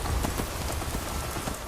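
Steady rain falls across the Skyrim game world, a dense, even patter of drops on surfaces that holds without a break from start to finish, with no voices over it.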